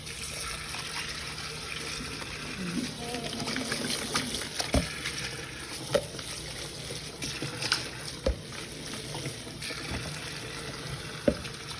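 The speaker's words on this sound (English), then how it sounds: "You pour it inside your bamboo bowl." Liquid poured into a bamboo bowl while making sticky rice, a steady trickling and splashing stream with a few sharp knocks and clinks, close and moderately loud.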